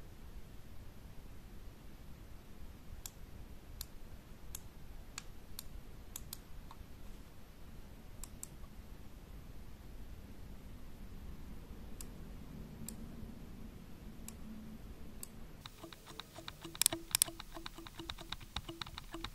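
Hollow, sharp clicks from a gaming mouse's buttons, tapped one at a time at irregular intervals over a faint hiss, with a short louder burst near the end.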